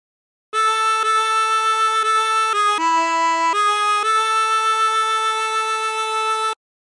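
A 24-hole tremolo harmonica plays a slow House of the Rising Sun phrase in C, bright wavering held notes changing pitch a few times, loud and close with no talking.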